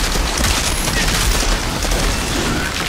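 Weapon fire in the Outriders video game rattles in a loud, dense, continuous burst, with sustained broadband gunshot noise filling the whole moment.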